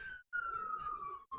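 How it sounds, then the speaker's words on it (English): A siren wails steadily, its pitch sliding slowly downward, cutting out briefly twice; low background noise sits beneath it. "I'm sorry for the sirens."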